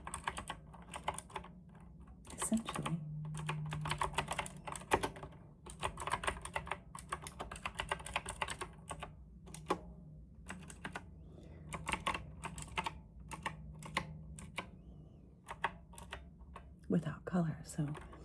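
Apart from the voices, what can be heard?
typing on compact mechanical RGB keyboard keys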